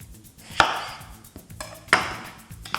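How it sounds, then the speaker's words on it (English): An eggplant is chopped with a knife on a cutting board, two distinct sharp chops spaced about a second apart with a few softer knocks between, close and quiet. "chop up our eggplant"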